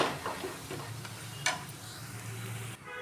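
Methi paratha roasting on a hot tawa over a high gas flame, giving a faint steady sizzle with a few soft taps and one brief scrape, quiet and close, no talking.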